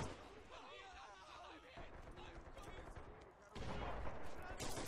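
Combat noise in the World War II shooter Red Orchestra 2 with a grenade going off, sustained rumbling blasts and gunfire throughout, swelling to a louder broadband burst in the last second and a half.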